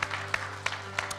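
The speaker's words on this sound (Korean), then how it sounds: "우리 하나님께 찬양의 박수를 올려드리겠습니다" A Korean church congregation claps in praise during a Sunday worship service, sharp evenly spaced claps over a sustained keyboard or organ tone.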